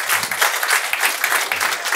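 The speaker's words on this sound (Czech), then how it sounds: "Neutuchající potlesk, to je nejkrásnější přivítání u diváků" Talk-show studio audience applauding continuously, a dense close clatter of many hands at steady intensity with no voices over it.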